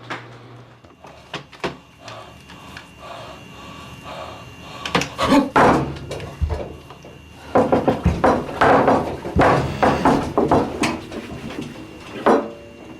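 Someone rummages through kitchen drawers looking for a spatula. Wooden drawers rattle and knock in irregular bursts, and utensils clatter and scrape in close, busy flurries separated by brief pauses.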